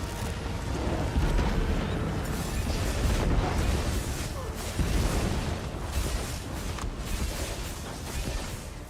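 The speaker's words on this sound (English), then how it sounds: "there's like a ton of explosions happening here the whole time" Explosions in a video game, a continuous rumbling barrage of booms and bursts lasting the whole time, loud and dense with no pauses.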